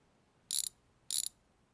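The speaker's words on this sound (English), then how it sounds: "Just got to take off all of these bolts." A hand ratchet removes the bolts from the front axle of a Lada Niva, giving two short, crisp clicking bursts about half a second apart in an otherwise quiet garage.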